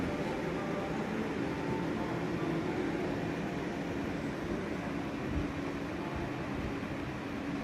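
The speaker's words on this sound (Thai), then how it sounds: "เพราะว่าพัดลมรอบมันสูงเลย" High-speed fans in a water-cooled PC with a 1000 W power supply, heard as a steady, dense broadband whoosh of rushing air that holds constant throughout with no talking.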